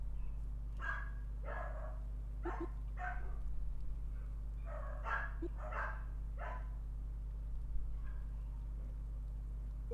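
Dogs bark outside in clustered volleys separated by brief pauses, somewhat distant and muffled, over a constant low background hum, with no voices.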